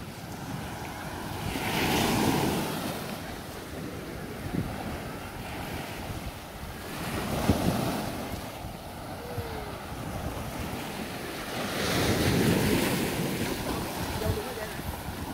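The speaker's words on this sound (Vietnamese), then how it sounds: "Wow, sóng mạnh đó nha." Strong ocean surf and gusting wind at a beach, with waves swelling and crashing in repeated loud surges over constant wind rumble against the microphone, no clear speech.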